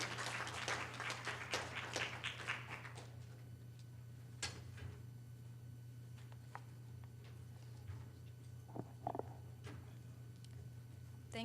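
An audience at an academic lecture on popular culture and public policy applauds briefly and dies down within a few seconds, followed by quiet room noise, scattered claps and taps.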